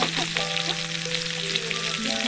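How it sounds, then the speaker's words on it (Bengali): Fish fries on a hot tawa pan with a steady, dense sizzle close by, crackling evenly throughout with no talk over it. "ধীরে ধীরে সুন্দর করে ভেজে নিতে হবে।"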